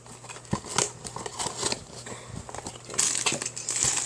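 Plastic packaging for a LEGO pirate minifigure is torn and crinkled open, close up, in irregular crackling and rustling bursts with no talk.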